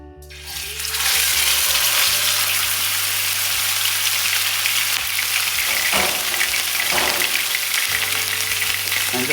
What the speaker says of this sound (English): make sure the oil temperature is 400 before you put the steak on